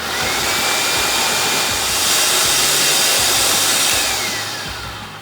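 A blender grinds cashews into cashew milk, a loud, continuous high-speed whir that runs steadily throughout and eases slightly toward the end.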